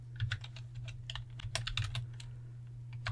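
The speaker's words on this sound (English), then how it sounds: "The next thing you want to do is type this command right here." Close, irregular clicking of keys on a computer keyboard as a terminal command is typed in openSUSE Linux, with a low steady hum underneath.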